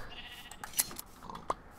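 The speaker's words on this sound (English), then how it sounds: "Hey, more sheep." Sheep in a video game give a few short, faint bleats, spaced apart over quiet background sound.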